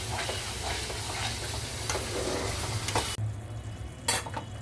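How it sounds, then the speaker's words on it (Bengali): Tangra fish sautéing in a pan as coriander leaves are stirred through, with a steady close sizzle, repeated scraping stirs and a brief pause before a sharp clatter near the end. "এখন কষানোর সময় ধনেপাতা দিয়ে খুব ভালোভাবে আমি কষাবো"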